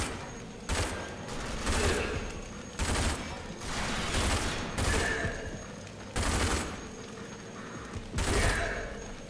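Bursts of automatic gunfire from the first-person shooter RAGE, loud and close, coming in several separate volleys with short gaps between them across the stretch.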